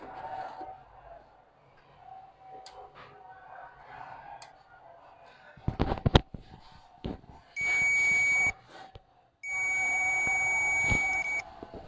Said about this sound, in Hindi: अभी बज़र पे इसे टेस्ट करेंगे।